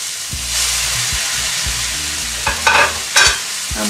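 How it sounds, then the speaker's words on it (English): Fish pieces stirred into a curry in a pan, a loud close hissing simmer with slow, soft stirring strokes and a couple of brief bubbling spurts near the end, no voices. "And we give that a little stir."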